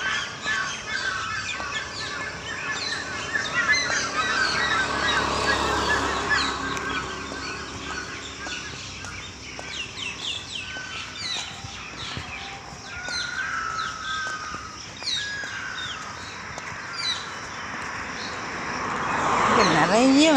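Birds calling outdoors during an early morning walk among many trees, loud harsh honking and cawing calls repeating near and far under someone speaking throughout.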